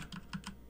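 Typing on a computer keyboard while entering a network router interface command: a few quick, close key clicks in an uneven rhythm over faint background hiss.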